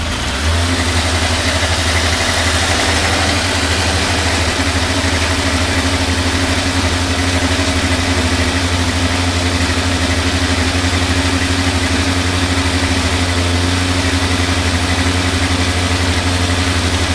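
A Suzuki Thunderace four-cylinder motorcycle engine idles at a raised tick-over of about 2,500 revs during carburettor balancing, a loud, steady, even drone with a constant low hum that runs throughout.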